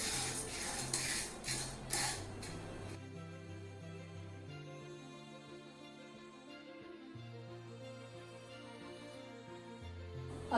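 Dal grains for sattu flour dry-roasting in a pan, with a few sharp utensil clinks and scrapes at the start, then a soft steady sizzle and faint rattle continuing quietly and alone.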